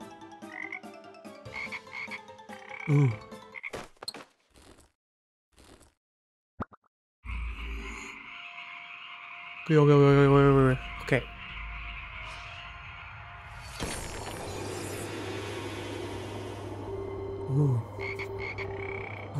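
Frogs croak in the video game Guardian Tales, intermittent and fairly close, alongside plopping effects and a steady background tone; a player briefly speaks a few short words.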